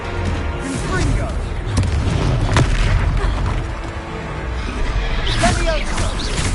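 Confringo fire spell explosions in the game Hogwarts Legacy, loud rumbling booms and crashes over a dense battle din, with voices speaking throughout.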